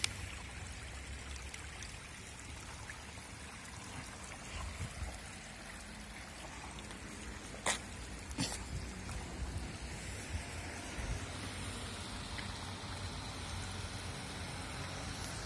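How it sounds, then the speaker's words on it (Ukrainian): Heavy rainwater rushes down Boryslavska Street in Truskavets like a river after a strong downpour, a steady, dense broadband wash of flowing water that continues without a break and with no voices. "Вниз потекла річка по вулиці Бориславській."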